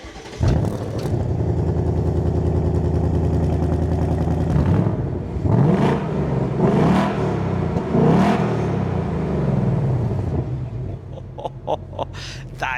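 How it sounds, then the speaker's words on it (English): A Ford Mustang Dark Horse's 5-litre V8 roars with loud, sustained revving, climbing through several sharp blips and rises in pitch before settling back toward a rumbling idle. "just show everyone what this 5-litre V8 sounds like"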